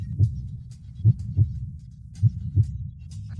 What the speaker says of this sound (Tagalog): Bakit mabilis ang tibok ng puso ko?